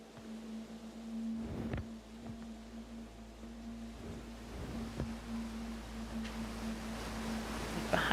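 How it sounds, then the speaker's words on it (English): A rushing waterfall in the video game Outer Wilds, heard as a quiet broad wash of water noise under a steady low tone, with a few brief thuds and a swell near the end. "Unless maybe there's something under that waterfall over there."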